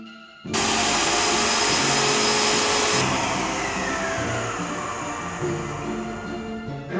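Graco airless paint sprayer pump in a garage being finished with drywall and fresh paint, starting up abruptly and then holding a loud, steady mechanical whine and hum that eases slightly in the second half.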